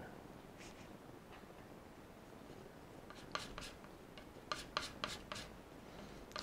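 Brush or palette knife mixing cyan and magenta acrylic paint, a soft scraping rub with a cluster of sharper strokes and taps near the end, close and fairly quiet.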